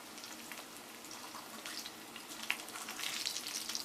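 Milanesa cutlets fry in a pan of hot oil, giving a steady close bubbling sizzle with scattered sharp crackles and pops that grow busier toward the end.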